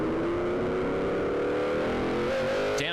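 An F5000 open-wheel racing car engine revs hard through a hairpin at the 2009 Christchurch, New Zealand round, a loud continuous drone with shifting pitch that rises toward the end.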